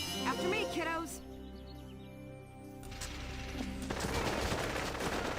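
Rosie fires her machine gun in Valkyria Chronicles, a sustained rattling burst of gunfire that starts partway through and builds toward the end, following a stretch of game voice and ambient sounds.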